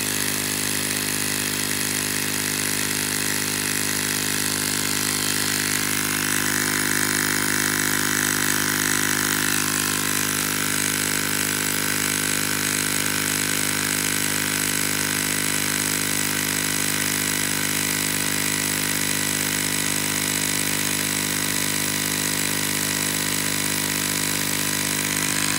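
An on-board air pump fills the tank of an aircraft pneumatic system at the flight line. It makes a constant, even mechanical drone with a hissing edge that does not change from start to finish, with no voices.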